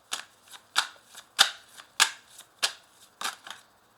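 Oracle cards are shuffled by hand in a series of about eight crisp, rhythmic riffling bursts, close up and evenly spaced over a few seconds, with near silence between them and no talk.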